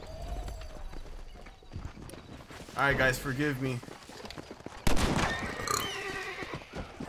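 Hooves clip-clop under a voice in Red Dead Redemption, then a horse neighs loudly twice in a row, followed by another sharp whinny and scattered game sounds.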